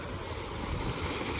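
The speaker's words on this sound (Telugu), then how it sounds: "గైస్ నీళ్ళు చూడండి ఎట్లా వస్తున్నాయి" Water rushes steadily out of pipes in a village, a loud, continuous broadband gush with no break and no talking.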